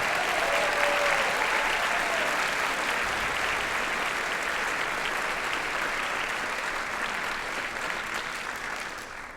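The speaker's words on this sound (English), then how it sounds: "Give him a round of applause." Sustained audience applause fills a school spring band concert hall, dense and steady for about nine seconds before tapering slightly at the end.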